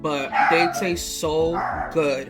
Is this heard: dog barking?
yes